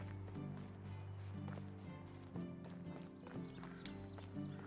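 Horses in the Medieval Dynasty game clip-clop at a steady walking rhythm through a pen of horses, donkeys and cows in a village, hoofbeats fairly close and soft over a low constant ambience.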